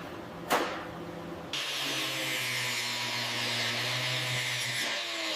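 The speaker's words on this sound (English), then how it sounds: "Grinding it smooth." A grinder smoothing welded metal on a 1960 Lincoln Continental under restoration: a sharp hit, then a loud, steady close whine with a high hiss holding for several seconds before easing off, and no voices.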